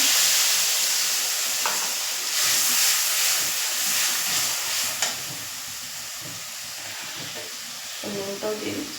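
Onion paste, tomato and curry paste frying in a pan with green chilli and nigella seeds, a steady bright sizzle with stirring scrapes and a few clinks, continuous throughout.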